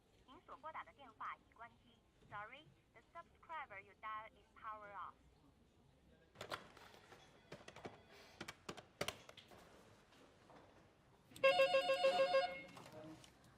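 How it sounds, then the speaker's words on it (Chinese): A mobile phone rings with a tinny electronic ringtone in an office setting; a melodic tone pattern repeats at the start, then keyboard-like clatter and voices follow before a louder ringing burst near the end. "没关系啊，你可以接电话的。"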